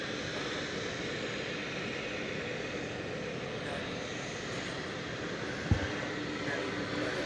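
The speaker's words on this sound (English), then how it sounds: "as we await the arrival of Japan Airlines Flight 12" A Japan Airlines airliner arriving at DFW Airport, its broad steady engine roar filling the air at a distance. One short sharp knock sounds near the end.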